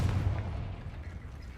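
A Confringo blast spell in Hogwarts Legacy booms as a low, rumbling explosion that opens strongly and then decays into a fading roar.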